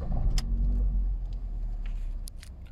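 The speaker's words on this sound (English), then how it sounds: "So I'll just start the vehicle." A 2011 Ford Focus Zetec with a 1.6 petrol engine cranks and fires up close by, settling into a steady, deep idling rumble that continues throughout with no speech.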